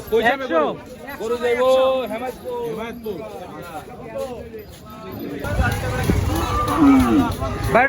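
Cattle and buffalo at the Hazratpur livestock market low and moo repeatedly, several long nearby calls, followed by a busier stretch of crowd noise and talk.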